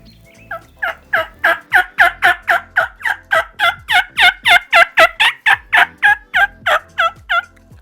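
A person works a diaphragm mouth call to imitate a wild turkey, producing a long, even series of about twenty loud, close, raspy yelps and clucks at a fast cadence.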